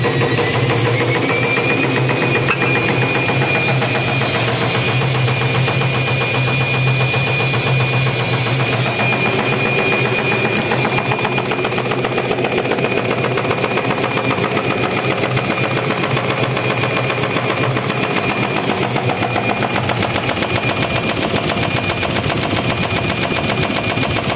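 Homemade poultry feather plucking machine for broilers running continuously with a loud, dense mechanical rattle and engine drone, its pitch shifting partway through as it speeds up, close by with no talk.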